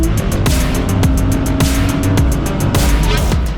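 Porsche race cars in the Porsche Sprint Challenge roar loudly around a circuit, several engines droning together with repeated rhythmic passes and surges close by.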